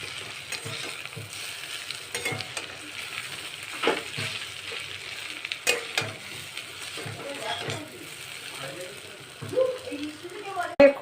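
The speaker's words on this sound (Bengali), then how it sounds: "দেখুন আমি চাউমিনটা প্রিপেয়ার করে নিচ্ছি আপনাদের সাথে রেখে।" Egg chow mein frying and being stirred in a pan in a home kitchen, a steady sizzle broken by repeated scraping and clinking strokes of the utensil, close and moderately loud.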